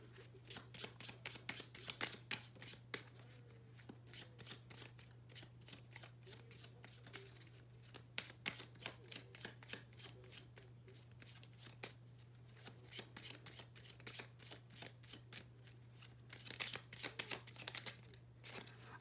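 A deck of cards is shuffled again and again, with quick riffling bursts and crisp snaps repeating close by over a faint steady hum.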